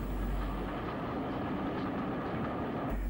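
Steam locomotive 35028 Clan Line passes at a distance behind trees hauling a Poole to York train, giving a steady rumble of wheels and coaches that cuts off near the end.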